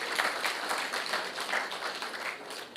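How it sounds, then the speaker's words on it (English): Audience applause following a data protection presentation for law enforcement, a steady wash of many hands clapping that holds at an even level from start to finish, with no talk over it. "Can I have another round of applause?"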